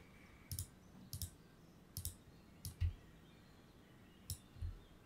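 A computer keyboard produces a handful of faint, sparse key clicks spread unevenly over a few seconds, with no voices.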